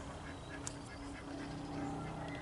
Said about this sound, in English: Where I live, I've got ducks.